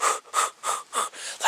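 A human voice imitates a deer snorting, giving five sharp, breathy puffs in fast rhythm, close and loud with no words between them.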